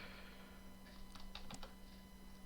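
Typing on a Commodore computer keyboard while coding PETSCII graphics in BASIC, a short cluster of a few quiet, crisp key clicks near the middle over a faint steady hum.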